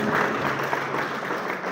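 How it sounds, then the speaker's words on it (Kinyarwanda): A church congregation claps together in a steady wash of applause that carries on at an even level for the whole moment. "dukomere Imana amashyi"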